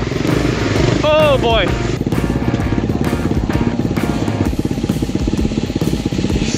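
A BBR KLX170RF dirt bike engine chugs and revs on a snowy mountaintop winter enduro trail, a loud rapid thumping pulse throughout with a rider's short exclamation near the start.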